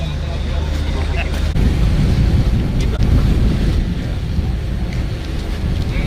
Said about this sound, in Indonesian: Itu kapal tunda buat kita.